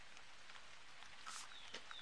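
Outdoor rain falling lightly, a faint steady hiss of drops with a few brief patters and a distant bird chirp.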